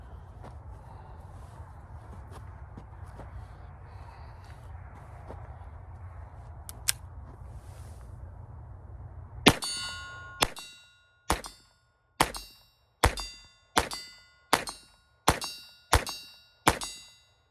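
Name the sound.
Browning 1911 .22 LR pistol firing a magazine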